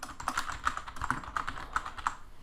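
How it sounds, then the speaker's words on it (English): Quick, light keystrokes tap on a computer keyboard while text is entered in a document, a short run of close, evenly spaced clicks with no voice. "So remember, Control F and then type in Foxy Loxy"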